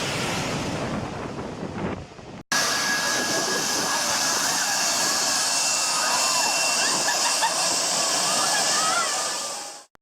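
A jet plane takes off at Maho Beach, St. Martin, its roaring engine blast loud and close, mixed with heavy wind and surf noise and a few faint voices behind.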